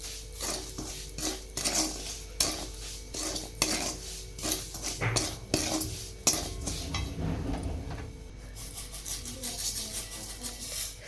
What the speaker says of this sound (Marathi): रवा भाजला त्यात टाकूया आपण आता तूप तुपात छान मिक्स करून घ्यायचं सगळं